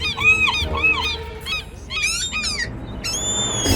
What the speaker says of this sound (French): On se fait attaquer par les mouettes.